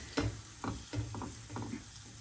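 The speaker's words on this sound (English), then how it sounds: "just let it sizzle away till the bottom's cooked" A steady, low crackling sizzle of Brussels sprout fritter batter in a frying pan, with a few soft utensil taps and scrapes over the top.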